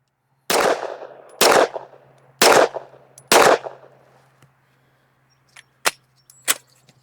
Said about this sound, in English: Let's shoot a 10-shot group